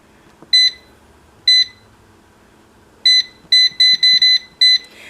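An air fryer being set to 360 degrees for 10 minutes gives a series of short, crisp electronic beeps: two spaced presses, then a quick run of five close together, loud against a quiet room.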